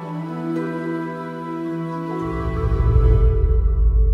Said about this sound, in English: Alto flute and English horn.